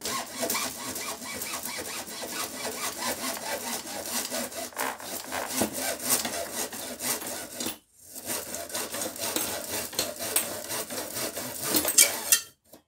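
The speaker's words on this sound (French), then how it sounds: "Donc ça c'est scie à métaux, on va pas s'embêter plus que ça. Donc on coupe bien en bas." A hacksaw cuts through the tube of a string light, near and steady, with rapid rasping back-and-forth strokes that run continuously, pause briefly once, then resume until the end.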